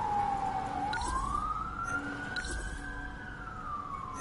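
A single wailing police siren from the video game 13 Sentinels: Aegis Rim sweeps slowly down and up in pitch, moderately loud, over a faint rumbling background.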